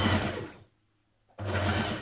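Domestic sewing machine stitching across the top of a shirt dress, two close bursts of steady whirring split by a short pause.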